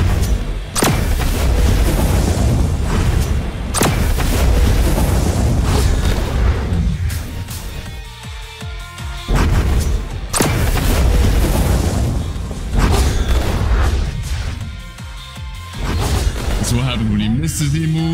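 Flame explosions from the Kitsune fruit Z move in the Blox Fruits video game: a series of loud, heavy booms bursting at irregular intervals over a dense, continuous game soundscape.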